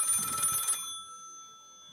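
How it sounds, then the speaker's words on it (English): Telephone bell ringing as a stage sound effect in a school drama performance, one short ring burst that stops and leaves a fading tone. "Ringing Murray Hill"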